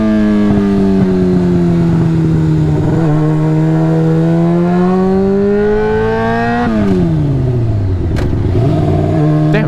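A Honda F4i sport motorcycle revs loudly and accelerates in first gear, its engine pitch climbing and then dropping sharply at a shift around the seventh second, recorded very close with a rough, intense whine.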